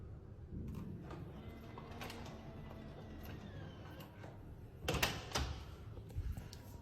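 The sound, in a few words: Nuki Smart Lock 3.0 Pro door unlocking by fingerprint on Keypad 2.0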